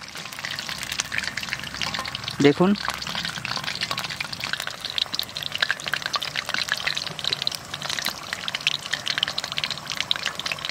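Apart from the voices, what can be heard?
frying chickpea dhoka in oil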